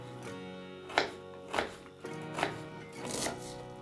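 An onion is chopped with a knife on a board while beef with mushroom sauce is being prepared, giving four distinct, evenly spaced knife strikes, close and moderately loud, over a faint steady background hum.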